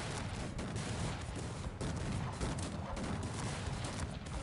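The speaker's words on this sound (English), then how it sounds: "his main army takes heavy casualties from cannon fire, while Bepa's cannons" Dense crackling volleys of massed musket fire and booming cannon shots fill a Cossacks 3 battle between 18th-century armies, a continuous, chaotic barrage of overlapping reports with no voices.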